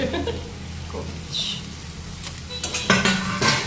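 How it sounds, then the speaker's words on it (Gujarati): Shredded cabbage stirred into Schezwan fried rice in a pan, with a spoon scraping and clinking against metal in irregular bursts and light sizzling underneath, growing busier toward the end. "કોબીજ મિક્સ કરી"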